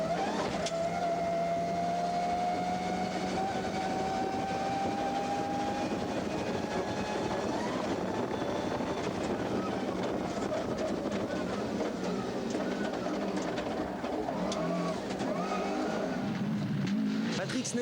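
A Group A Subaru rally car races along a stage of the 1999 Rallye des Hautes-Fagnes, its engine roaring with rising and shifting revs, loud and continuous under a talking voice.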